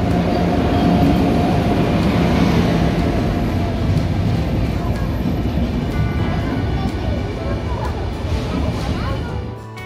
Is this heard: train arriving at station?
yes